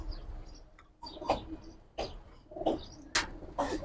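Pigeons coo in a loft in Islambagh, Old Dhaka, several soft, rounded calls coming one after another at close range against a quiet background, with a few light chirps in between.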